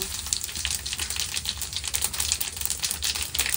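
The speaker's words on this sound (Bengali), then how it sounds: "তেল গরম হয়ে যাচ্ছে, জিরে দিয়ে দিলাম, তেজপাতা" Cumin seeds and a bay leaf crackle in hot oil, a dense, close, continuous spattering sizzle with quick popping bursts throughout.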